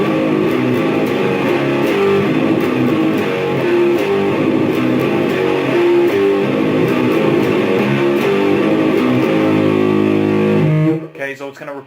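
The bridge of a song played on electric guitar, a dense, continuous, repeating pattern of low notes that sounds loud and close for about eleven seconds before cutting off abruptly.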